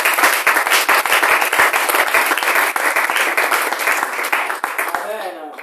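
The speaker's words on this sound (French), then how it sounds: "Est-ce qu'on peut acclamer?" A church youth-service congregation breaks into loud, sustained applause, dense clapping from a large crowd that holds steady before tapering off as a voice begins speaking at the end.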